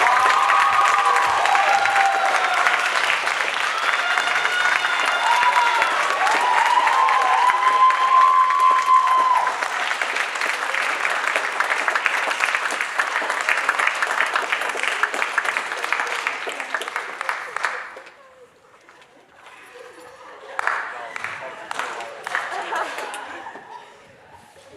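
Loud sustained applause from a large audience with some cheering and laughter, fading out near the end before a brief smattering of claps.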